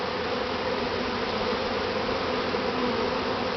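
Bees buzzing steadily around a top bar hive during a honey harvest, a dense, continuous close drone with no voices.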